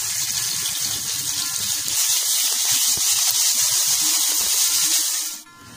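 Garlic and ginger cubes sizzling in hot oil, a loud steady hiss and crackle of frying that holds throughout before dropping away at the very end.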